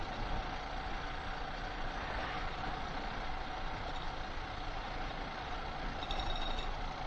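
A vehicle travels the newly concreted Gaganbavada ghat road, its engine giving a low, steady drone at moderate distance with a slight swell near the end.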